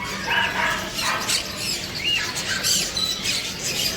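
A crow squawks in a pet shop, with several harsh, short calls spread across the clip at moderate loudness over a busy background of shop noise and other animal sounds.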